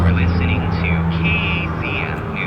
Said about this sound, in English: There goes one of our choppers again. It must be one of those Lifeline choppers